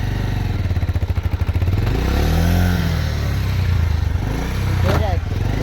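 A motorcycle engine pulses and revs unevenly at close range while the clutch fails to let it into gear, with some clattering near the end.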